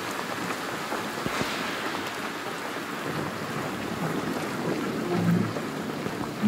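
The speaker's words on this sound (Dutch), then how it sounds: "Regen." Rain falling in the video game Ghost Recon Wildlands, a steady, dense hiss of rainfall on surfaces, continuous and fairly loud throughout with no voices.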